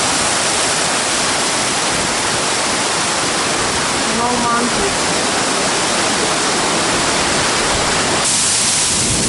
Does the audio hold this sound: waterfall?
yes